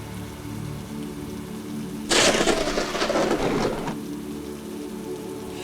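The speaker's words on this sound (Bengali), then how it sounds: "এই যা, আবার বৃষ্টি বেড়ে গেল" Heavy rain pours down in a sudden loud burst lasting under two seconds, a dense hiss of drops over a quieter rainy background, with no voices.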